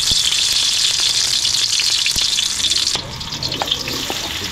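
Garlic sautéing in a pan, a steady bright sizzle with stirring clicks throughout, dropping slightly quieter partway as the sizzle settles.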